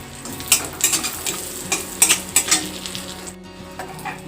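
Cashews and raisins fry in butter in a pan while a spoon stirs them, a steady sizzle punctuated by repeated close scraping and clinking strokes that stop toward the end.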